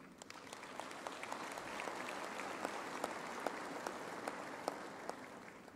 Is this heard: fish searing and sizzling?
no